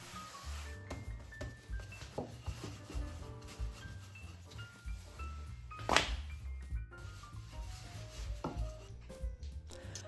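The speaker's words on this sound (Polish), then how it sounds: "Teraz kroję ciasto w paski, a potem w prostokąty." A knife slices rolled-out, flour-dusted dough on a counter into strips and then rectangles, producing soft irregular taps and scraping cuts with one sharper knock midway, close up and fairly quiet, without speech.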